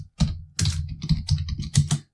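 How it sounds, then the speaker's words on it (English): Code gets typed on a computer keyboard in a fast, uneven burst of close, crisp keystrokes lasting about two seconds, with a short pause near the start and no voices. "I hate this word, it's always difficult to type out."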